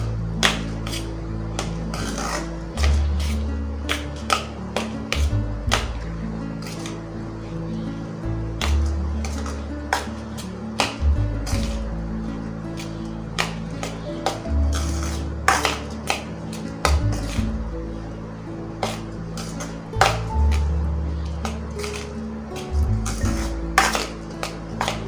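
Metal spoon scraping and clinking against a vessel while samba wheat rava is stirred and mixed for puttu, a steady run of sharp taps and scrapes over a low, repeating background hum.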